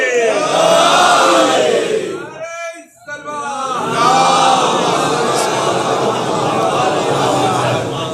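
A crowd at a Muharram majlis gathering in an azakhana chants salawat in loud, harmonic unison, with a brief dip in the middle before the voices swell again and carry on strongly.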